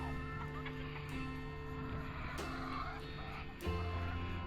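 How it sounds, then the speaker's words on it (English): Chickens in a homestead chicken run, some of them molting, give soft, scattered clucking against a steady outdoor background with no one talking. "And there's our chicken run,"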